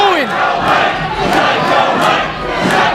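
A wrestling crowd at a live event cheering and chanting, a dense, loud roar of many voices swelling and dipping with rhythmic pulses, with no clear speech above it.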